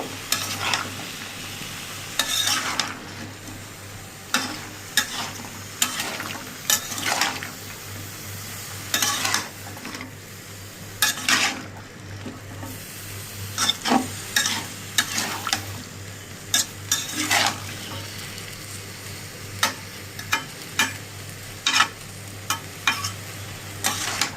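Dried fish and radish fry in a pan, with repeated scraping stirs in irregular bursts over a continuous sizzle and a low steady hum, and no voices.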